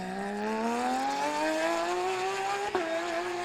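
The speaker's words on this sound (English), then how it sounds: "You can hear loads of transmission and hardly any engine noise." A 2021 Porsche RSR race car with a rising whine of transmission noise that climbs steadily in pitch, a sharp squeak near the end, little engine note, heard alone.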